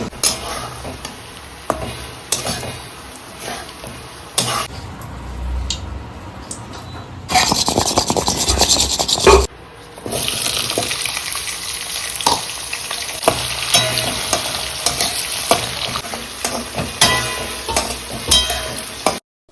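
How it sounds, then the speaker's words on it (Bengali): Potato slices frying in oil in a home kitchen pan, a loud close sizzle broken by bursts of stirring and scraping of a spatula against the metal, with a brief pause in the middle before the crackle resumes. "এখন আলু ভাজা করবো"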